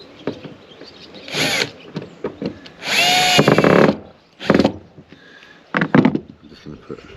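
A power drill drives screws into a boat, several short whirring bursts and one longer run of about a second, close and loud, with brief clicks and a person talking between them.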